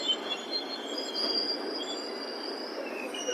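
An express train entering a station rumbles steadily with high metallic wheel squeals drawn out over the noise, moderately loud, no voices.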